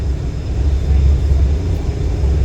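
A hovercraft crossing to the Isle of Wight lands with a loud, steady low rumble heard from on board, a continuous engine drone.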